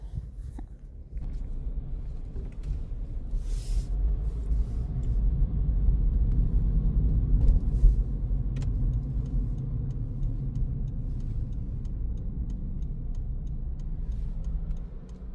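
Steady low rumble of a car driving on a road heading toward the interstate, heard from inside the cabin as continuous road and engine noise with a few faint ticks.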